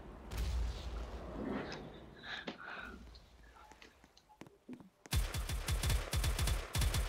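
Rapid gunfire from the video game Harbor Havoc, a dense burst of sharp repeated shots erupting loudly in the last two seconds after quieter game noise and a few scattered cracks.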